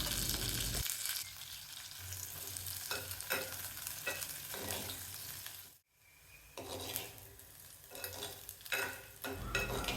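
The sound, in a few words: bitter gourd pieces being sautéed in oil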